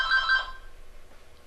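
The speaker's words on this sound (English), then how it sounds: "Sorry about that, that's the phone." An indoor telephone rings loudly in a single trilling burst that fades into a quiet room hum.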